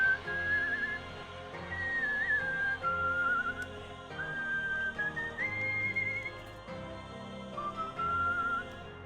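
A person whistles a meandering tune of short phrases, close and steady for several seconds, over a faint background hum.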